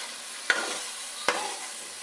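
Karahi gosht meat is stir-fried in a pan, sizzling steadily and close, with two sharp scraping stirs about a second apart and no talking.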